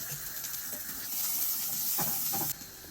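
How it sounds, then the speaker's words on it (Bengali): Chopped garlic and onion fry in hot oil in a wok, giving a loud, continuous sizzling hiss close up, briefly swelling with a few crackles before easing slightly near the end. "কড়াইতে তেল দিয়ে রসুন আর পেঁয়াজ কুচি ভেজে নিয়েছি"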